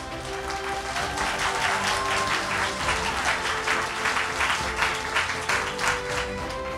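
Concert audience at a televised vocal show's gala finale applauds steadily and densely for about seven seconds, a broad wash of many hands clapping with no speech over it.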